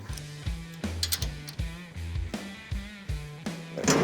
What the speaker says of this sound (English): Just going to get a couple bolts in it to hold it for now